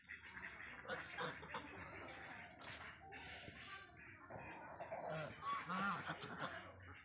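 A flock of swans calls with overlapping honks and hoarse cries, fairly faint and distant, continuing throughout.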